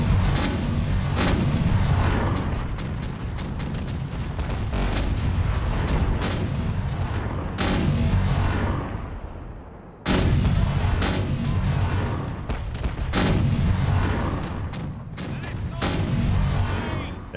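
Cannons fire repeatedly in the pirate naval game Caribbean Legend: Age of Pirates. The booms are loud and dense, rolling continuously with a brief lull partway through before the barrage resumes.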